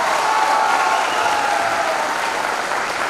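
An audience in a hall at a direct-selling business coaching event applauds steadily and loudly, a dense wash of clapping throughout with no talk over it.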